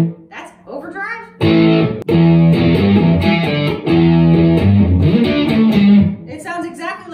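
Traveler EG-1 Custom V2 electric guitar played through its built-in overdrive, loud sustained crunchy chords and riffs with a fuzzy edge, opening after a few quiet clean notes and ringing out continuously.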